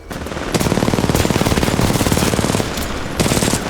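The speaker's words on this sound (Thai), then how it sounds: "ปืนมันดีด ดีดสมคำว่าเวกเตอร์ยิงเลย" Vector submachine gun in Titanfall 2 firing loud, rapid sustained bursts, a long continuous stream with a short pause before a final burst, close and dominant with no talk.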